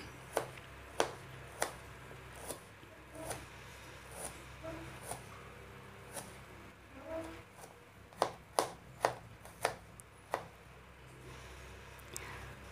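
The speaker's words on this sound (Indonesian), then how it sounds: "pertama kita iris tipis-tipis dulu ya bawang merahnya" Sharp knife chops thinly slicing shallots on a cutting board, sparse at first, then a quicker cluster of crisp strikes, close and fairly quiet with soft room noise.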